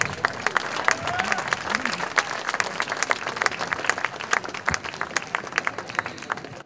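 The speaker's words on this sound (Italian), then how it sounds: "Applauso, grazie." Audience applause for jury members introduced at an Italian summer event in Romagna, a moderate patter of hands with scattered individual claps and some voices mixed in, fairly close and steady.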